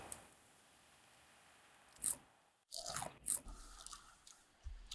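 Fresh, aquaponically grown Multigreen lettuce from a farm in Taean, South Korea, is bitten and chewed with a few sharp, crisp crunches, close and quiet.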